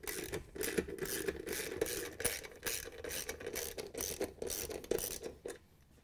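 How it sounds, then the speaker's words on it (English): A torque wrench tightens bolts on a GE washer's mode shifter and shaft assembly, giving rapid ratcheting clicks in bursts with short pauses, close and fairly quiet, with no voices. "we can use the torque wrench and tighten them down"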